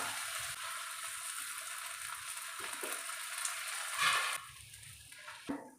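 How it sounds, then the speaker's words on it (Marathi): Pav bread toasts in butter on a hot pan with a steady soft sizzle, broken by a few brief scraping and pressing sounds and a louder crackle near the middle. "बटर लावून घेऊया छान प्रकारे भाजून घेऊया दोन्ही भाजूंनी छान मस्त भाजून घेऊया"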